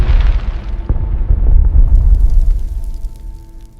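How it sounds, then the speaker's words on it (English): The massive August 4, 2020 explosion at the port of Beirut sounds as a loud, deep, roaring boom that rumbles on and slowly fades over several seconds, with no voices. "a massive explosion devastated the port of Beirut."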